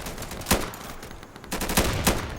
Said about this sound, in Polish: Strzelają we mnie.